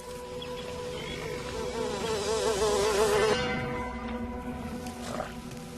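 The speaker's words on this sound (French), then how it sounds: "il s'agit ici de combattre un petit insecte redoutable, la mouche tsetse" A tsetse fly buzzing close by, its drone wavering in pitch and swelling louder in the middle before fading, over a faint background hum.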